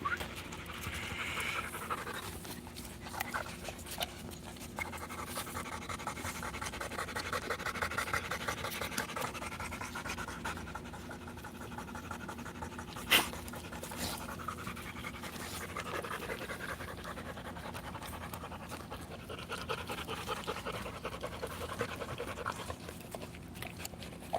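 A puppy pants steadily and close by for the whole stretch, quick rhythmic breaths with a faint scratching now and then and one brief sharp knock partway through.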